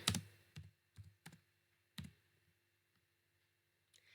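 Keys clicked on a computer keyboard, several distinct taps spaced unevenly, with a firm press of the Enter key, close and quiet in an otherwise silent room.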